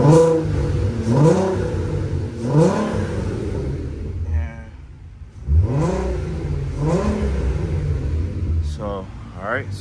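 A Volkswagen MK1 GTI Rabbit with a VR6 engine, a Walbro 255 inline fuel pump and a catalytic converter idles, then is revved up several times, each rev rising and falling close by.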